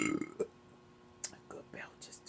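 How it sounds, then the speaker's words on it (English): Loud burp from a man after eating a chili cheese omelette with buttered toast, a short throaty belch at the start followed by quieter scattered mouth and breath sounds. "Good belches too."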